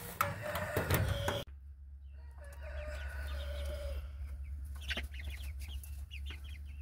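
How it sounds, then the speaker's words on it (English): Chickens cluck and squawk nearby in short bursts over a steady low hum, with a few sharper calls toward the end. "look like the chickens are doing good today"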